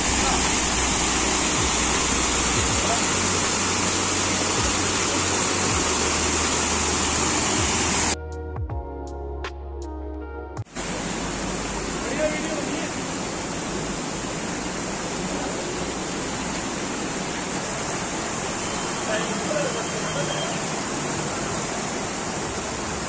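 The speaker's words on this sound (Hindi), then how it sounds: "कैसे पानी आ रहा है ऊपर से" A mountain waterfall in Uttarakhand pours down from above, a loud continuous rushing roar close by, briefly dropping away for a couple of seconds before returning just as strong.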